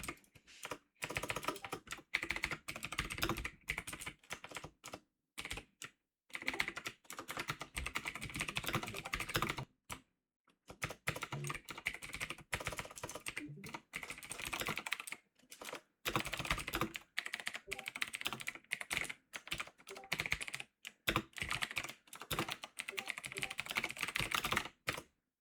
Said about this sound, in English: I type this out.